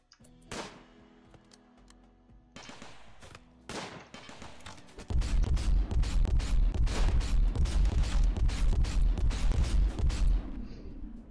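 Turret and rifle gunfire in the video game RimWorld, starting as sparse scattered shots and swelling into a loud, dense, continuous rattle of rapid fire over the second half.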